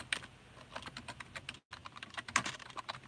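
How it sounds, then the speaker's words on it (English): Rapid clicking of computer keyboard keys in an irregular burst, near and fairly loud, with a brief gap partway through and no voice. "Fucking keyboard."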